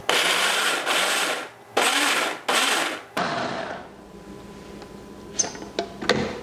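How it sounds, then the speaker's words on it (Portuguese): Kitchen blender pureeing washed, dried strawberries into a smooth cream, heard as several loud whirring bursts of a few seconds each, followed by quieter clatter and light knocks. "coloca tudo no liquidificador e bate até ficar um creme homogêneo"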